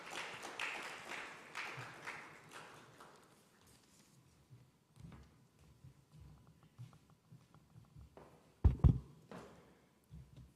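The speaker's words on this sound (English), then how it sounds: "Ladies and gentlemen, applaud for him as he takes on a stage." Audience applause at a fintech initiative ceremony as a speaker walks onstage: dense clapping, strongest at the start, thins out over about four seconds. Quieter room noise follows, with a sharp loud knock near the end.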